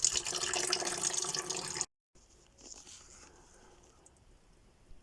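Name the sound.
coolant draining from Citroen C3 cooling system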